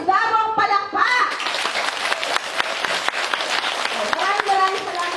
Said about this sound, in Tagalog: atin po silang bigyan ng masigabong palakpak!